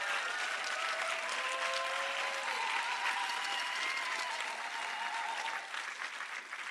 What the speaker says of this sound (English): So once again, give them a hand clap.